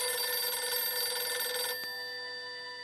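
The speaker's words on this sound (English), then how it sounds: "the telephone in the elevator ringing randomly" A telephone bell in an elevator rings in a bright metallic trill, then stops abruptly and leaves a lingering ringing tone fading out.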